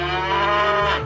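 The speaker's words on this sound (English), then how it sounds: "2 cows" A cow gives a single loud, close moo, a sustained low harmonic call that dips slightly in pitch near the end.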